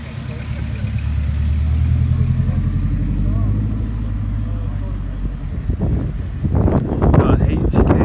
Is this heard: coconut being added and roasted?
no